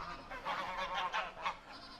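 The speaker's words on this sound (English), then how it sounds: "So we've had another Canada goose join us." A Canada goose honks repeatedly in short nasal calls at a moderate distance on a farm in winter, the honks coming in an irregular series with no talk.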